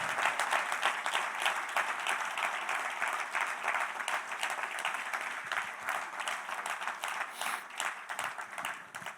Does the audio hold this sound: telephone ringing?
no